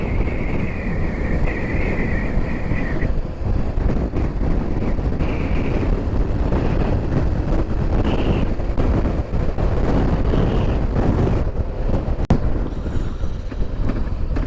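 Strong wind on the Scottish north coast buffets the microphone in a loud, continuous rumbling roar, with gusts surging and fading and occasional bumps.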